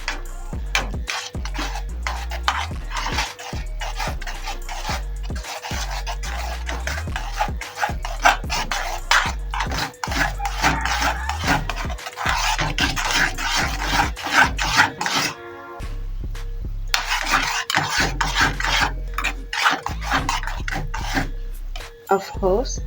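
Cheese being stirred into a homemade lasagna mixture, giving close, repeated rasping and scraping strokes in a steady rhythm, with short pauses between bursts.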